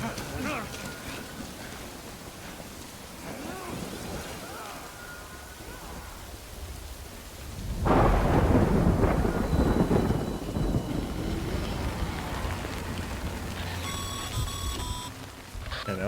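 Rain falls steadily in the video game Death Stranding, then a loud roll of thunder breaks in about halfway and rumbles on under the downpour, with a few electronic beeps near the end.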